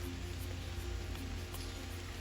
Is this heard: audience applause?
no